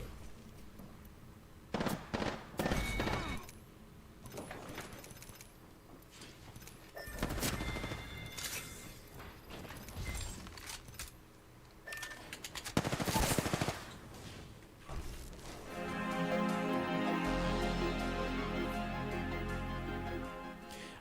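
Gunfire from the video game Apex Legends, with loud bursts of automatic fire and single shots at irregular intervals, followed by a sustained rumbling stretch near the end, and no talk over it.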